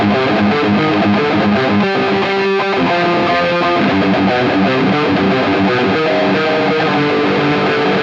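Heavily distorted electric guitar played through a Line 6 POD GO or Headrush MX5 multi-effects unit with the master volume cranked, a loud, dense, continuous chugging riff with sustained chords and no talk.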